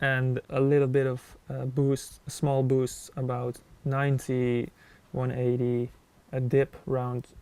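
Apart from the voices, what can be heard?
None of the usual background noises is heard.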